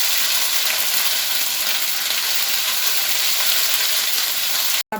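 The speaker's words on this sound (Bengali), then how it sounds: "আমি আদাটাকে ভালো করে ভেজে নিচ্ছি" Ginger frying in a pan with salt, a dense, even sizzle close up that holds steady throughout, ending in an abrupt cut.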